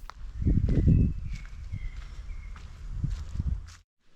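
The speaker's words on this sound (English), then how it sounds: "the leaves rustling under your footsteps" Irregular footsteps crunch and rustle through dry leaves nearby in Luxembourg, a few steps in uneven rhythm, with faint birdsong in the background.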